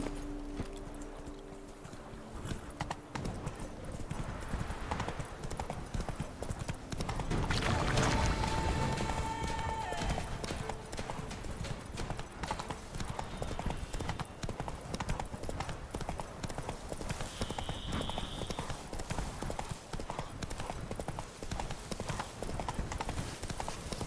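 Horse hooves clip-clop steadily in the video game The Witcher 3, a continuous galloping rhythm over game ambience with wind and water-like background, with a brief whinny partway through.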